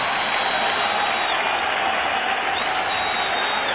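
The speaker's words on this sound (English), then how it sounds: "The entire Met team standing on the top step of the dugout awaiting Mike and applauding" Sustained stadium applause and crowd roar for Mike Piazza of the Mets at a baseball game, loud and continuous, a broad wash of clapping and cheering with a faint whistle-like tone drifting through.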